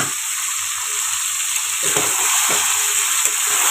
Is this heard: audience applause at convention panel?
no